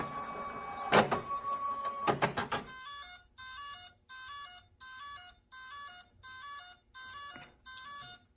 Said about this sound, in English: Hitting the feed button to feed the paper through.